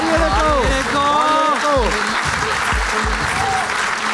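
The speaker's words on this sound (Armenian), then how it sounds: "ձեր բարձր ծափարությունների ներքո" An audience at a televised evening show applauds loudly and steadily, a dense wash of clapping that continues throughout while a host's voice speaks over it.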